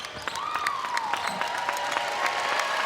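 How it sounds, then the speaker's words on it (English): Steady applause from a big arena crowd at a UCLA women's basketball game at Pauley Pavilion, sustained and dense throughout, with a faint arena tone gliding beneath. "Round of applause starts to rain down here at Poly"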